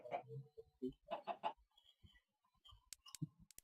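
A Minecraft chicken clucks in short bursts, several close clucks spaced through the stretch, mixed with quiet game clicks.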